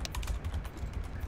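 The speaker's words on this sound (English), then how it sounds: "the microphone's really close to my keyboard" Laptop keyboard typing picked up by a microphone sitting right beside it: a dense, fast patter of soft key clicks over a low background rumble, with no talking.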